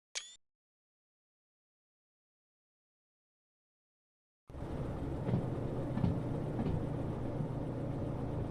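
A locomotive in the Derail Valley train game rumbles and clanks along after a brief click and several seconds of silence, a low steady mechanical drone with faint rattles.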